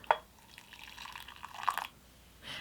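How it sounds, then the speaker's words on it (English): A little water is poured into roasted green tea (hojicha) powder, heard as a few faint, brief splashes and trickles in a quiet room. "Gonna add a little bit of the water."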